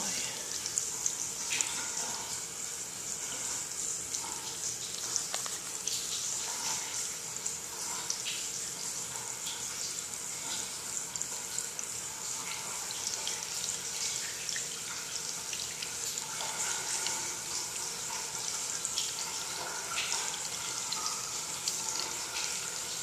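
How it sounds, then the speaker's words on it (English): Water from a plumber's hose sprays steadily against a glass door during a leak test, producing a continuous soft hiss and patter with faint splashes throughout. "spraying on the glass, and that track right there will fill up with water"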